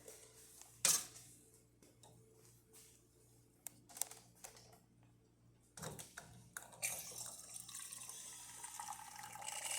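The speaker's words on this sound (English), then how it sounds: "And the hot water." A steady hiss of hot water streaming from a serviced Gaggia espresso machine's nozzle, starting partway through and continuing to the end, with a few clicks and taps before it.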